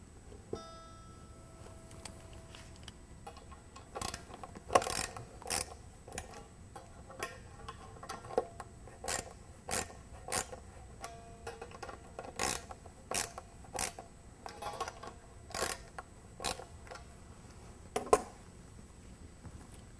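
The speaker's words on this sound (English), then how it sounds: "To stabilize the tremolo against the body, either tighten the claw screws or add a spring until it doesn't move." Small metallic clicks and ticks from screws being tightened on an electric guitar's tremolo claw, sparse irregular snaps over a quiet background, close and fairly faint.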